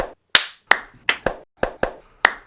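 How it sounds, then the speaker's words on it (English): Seven crisp single hand claps ring out nearby in a loose, uneven rhythm, each one dying away quickly, with no voices present. "Clap."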